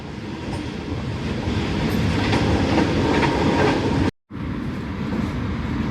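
Locomotive 9010 shunting wagons into place at a station, a loud continuous rumble with rail clatter throughout and a momentary dropout near the end, no voices.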